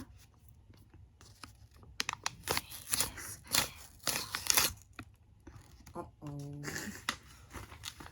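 Packaging is torn open by hand in a series of close, irregular crinkling rips and crunches, with a voice briefly making a sound partway through.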